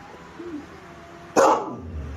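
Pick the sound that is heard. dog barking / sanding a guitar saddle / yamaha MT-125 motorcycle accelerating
dog barking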